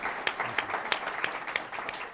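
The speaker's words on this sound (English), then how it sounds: "But please give them a round of applause." Applause from an audience at a health care reform town hall, a short steady burst of clapping with a few sharper claps standing out, fairly distant and moderate in level.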